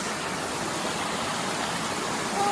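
Two small waterfalls of clear water in a shallow stream, giving a steady, even rushing hiss that stays close and constant without any talk.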